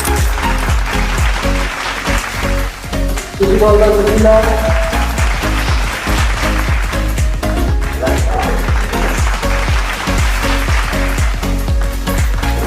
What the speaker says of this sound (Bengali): একবার জোরে হাততালি হয়ে যাবে।